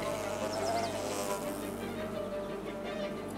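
A swarm of hive insects, bees or wasps, hovers and buzzes in a steady drone that fills the whole stretch, with faint higher whines drifting past and no voices.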